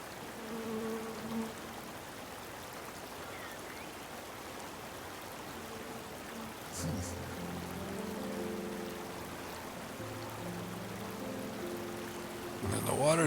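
Stream water burbles and trickles steadily in the relaxing game Babbling Brook, a soft, continuous flow with brief tonal game sounds toward the middle and end.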